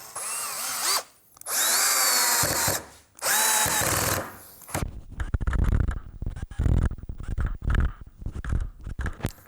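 A Tekiro CD-HD2047 12V cordless hammer drill drives a long screw of about 7.5 cm, with two loud sustained whirring runs separated by pauses, followed by a series of short, rough bursts of bit grinding and trigger pulses.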